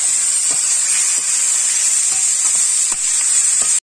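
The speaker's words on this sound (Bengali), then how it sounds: "সামান্য পরিমাণে লবণ আর হলুদ দিয়ে একটু ভাজা ভাজা করে নেব।" Kharkon stems frying in a pan with salt and turmeric give a steady, close sizzle with soft stirring scrapes scattered through it; no one speaks.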